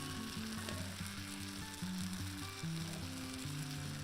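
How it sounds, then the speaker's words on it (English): Spinach frying with onions in a camp pan outdoors, a steady close sizzle and hiss under a low droning hum, continuous with no voices. "Throw our spinach in."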